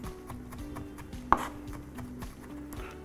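Knife chopping a garlic clove on a board for cacık, a soft, quiet, steady run of taps with one sharper louder knock partway through, alone without talk.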